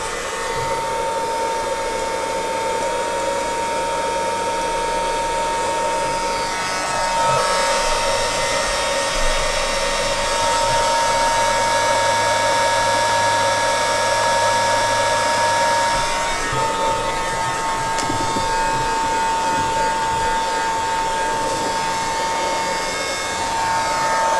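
A heat tool or hair dryer runs steadily, drying a keepsake box for a mini album craft project. The airflow is loud and continuous, with a slight change in pitch as it is moved around, and no talking.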